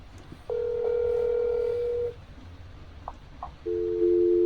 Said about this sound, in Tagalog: Tawagan muna natin yung kwarto mo.